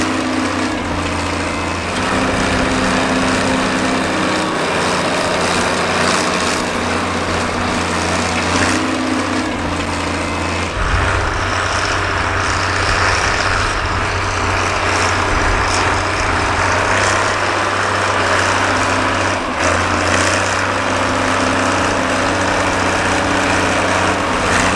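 A classic four-wheel-drive tractor working at an outdoor vintage event runs with a loud, steady, close engine drone, easing and shifting in pitch midway before settling back to a continuous throb.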